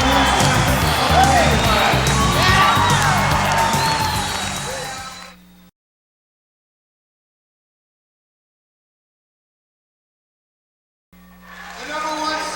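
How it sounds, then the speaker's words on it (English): A crowd at a 1999 high school district wrestling final roars loudly for about five seconds, cuts to near silence, then swells again at the very end. "Anytime there's a big upset, you hear the crowd get a little loud."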